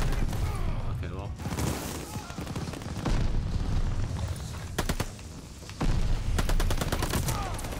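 Gunfire in Call of Duty Vanguard multiplayer, dense rapid automatic fire with sharp distinct shots and booms, heard loud and continuous with no talk.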